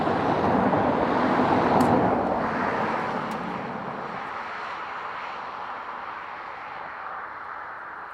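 An Aer Lingus airliner arriving from Barcelona roars loudly at first, then its engine noise steadily fades and recedes over several seconds.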